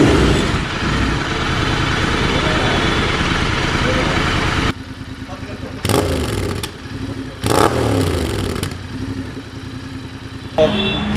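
A Royal Enfield Interceptor 650 twin fitted with an SS Moto full-system exhaust, idling with a loud, close, throbbing rumble, then dropping lower and blipped with short revs, with someone talking over it.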